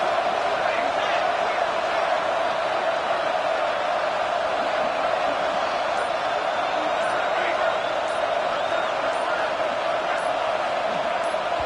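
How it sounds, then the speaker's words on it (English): Roaring stadium crowd at a Memphis football game, a dense, steady wall of loud noise that builds as fans rattle the visiting offense into a false start. "with this place rocking, the crowd forces a false start"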